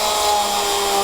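A small power drill bores through a stone bead into a wooden backing block, giving a steady close-up high-pitched whine with a constant motor tone and no pauses.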